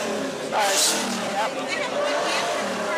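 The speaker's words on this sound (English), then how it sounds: "John Braden, I hear your car. It's a very cool car." A car engine runs in a street parade, a steady hum with a brief rise in revs, heard under a constant wash of crowd noise and a voice speaking over a loudspeaker.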